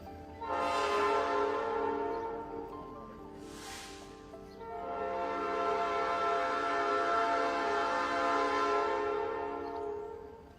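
A train horn blares in two long, loud blasts separated by a short pause, with rail rumble underneath.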